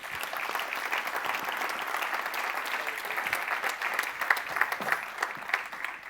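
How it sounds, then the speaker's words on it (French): An audience applauds as economist Nicolas Bouzou is introduced at a Tilt Vendée evening conference, sustained even clapping from a crowd at moderate level, with a few brief sharper sounds near the end. "si vous voulez bien l'applaudir"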